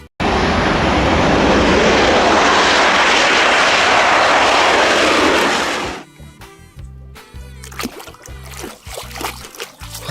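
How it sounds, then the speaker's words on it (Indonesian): A loud, close roar of a fighter jet sound from a toy jet for about six seconds, cutting off abruptly and followed by quieter clicking and handling noises. "Wow, lihat, ini ada pesawat jet tempur."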